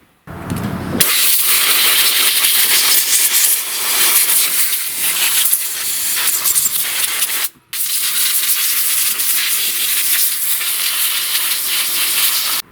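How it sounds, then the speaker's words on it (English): Compressed air blasts steadily while dust is blown off a STIHL chainsaw, a loud close hiss running nearly continuously with one brief pause midway. "I'm going to go and air blow this saw so that it's cleaner"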